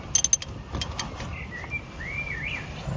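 A ratchet tightens bolts on a Golf engine with a quick burst of sharp, close clicks at the start, then faint mechanical ticks as birds chirp in the background.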